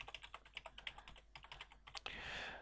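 Quick, fairly soft keystrokes patter on a computer keyboard while a password is typed, a run of light taps followed by a short rustling hiss at the end.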